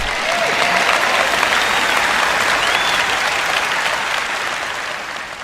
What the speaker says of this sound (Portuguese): Eu sei que estão mais animados do que esse aplauso.